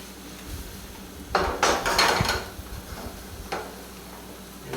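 An omelette flipped in a slightly large frying pan: a few quick metallic clatters and a soft slap of egg landing, close and brief, over faint background hiss.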